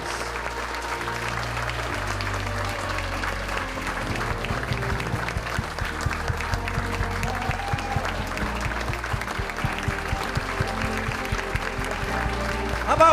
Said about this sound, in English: let's have all of our stars join us up front as we give them a big round of applause